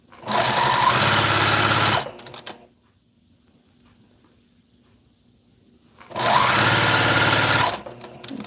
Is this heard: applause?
no